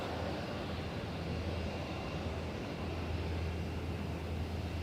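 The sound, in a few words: Alliance Airlines Fokker F100 jet taxiing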